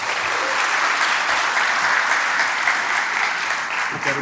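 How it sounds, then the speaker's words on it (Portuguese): Steady, full applause from a church congregation, continuous dense clapping with no talking over it. "Recebam este servo do Senhor com palmas para Jesus."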